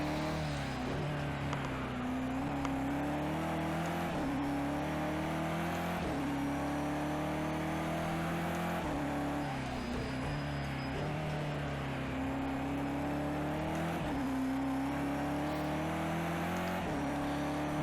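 Race car engine in the Project CARS 2 racing game, heard from the cockpit as a steady loud drone that rises in pitch through each gear and drops at every shift, repeating over several upshifts with no talking.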